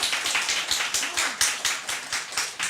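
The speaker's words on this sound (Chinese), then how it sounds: "来给他鼓掌" An audience at a talk claps in a rhythmic, unison beat, about a dozen evenly spaced, close, loud claps with no voices over them.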